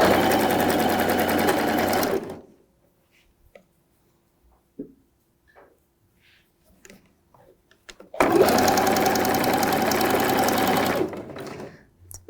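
A sewing machine stitches a seam on a child's unisex jumpsuit in two loud, steady bursts near the beginning and end. Between them comes a long pause broken only by small handling clicks, and nobody speaks.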